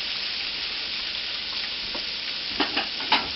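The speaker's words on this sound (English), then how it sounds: "But those are going to fry up really quickly for you" Cube steaks frying in a pan, a continuous close sizzle that runs throughout, with a few sharp clicks and scrapes near the end and no talking.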